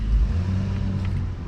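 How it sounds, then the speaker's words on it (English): A Chevy Malibu with a weak, jumped battery runs with a low, steady engine hum and a slight rise in revs, heard up close for just over a second with no talk. "Let's get inside and crank the car up."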